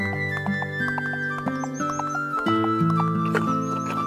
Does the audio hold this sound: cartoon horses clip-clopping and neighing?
yes